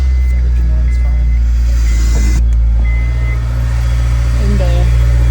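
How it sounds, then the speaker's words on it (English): A Honda S2000 with worn pulley bearings and a leaking injector idles steadily after starting. Its engine makes a loud, continuous low hum with faint mechanical chatter on top. "I'm gonna turn the car on"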